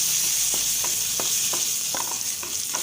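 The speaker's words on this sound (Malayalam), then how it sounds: "ഇനി ഇതിലേക്ക് ഒരു അല്പം മഞ്ഞൾപ്പൊടിയും കൂടെ ചേർത്ത് കൊടുക്കാം ഒരുപാട് മഞ്ഞൾപ്പൊടി ചേർക്കണ്ട എന്നിട്ട് ഇത് നന്നായിട്ടൊന്ന് ഇളക്കി കൊടുക്കാം" Turmeric is stirred into a sizzling curd and chili curry in a pan. A steady frying hiss runs under a spoon scraping the pan in regular strokes, about seven of them, close and distinct, with no talking.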